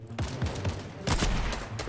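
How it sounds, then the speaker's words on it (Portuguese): Gunshots in a video game: rapid, loud bursts of fire fill the short stretch, with several distinct clustered shots close together and no talk over them. "Me diz aonde que ele tá atirando."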